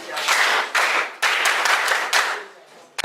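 A school audience in Gambella gives a short round of hand clapping, three or four close, loud surges of applause over about three seconds.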